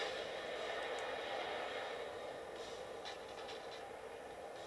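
A train in the Saints Row 4 video game rumbles steadily throughout, a broad continuous roar with faint metallic clanks, heard alone without talk.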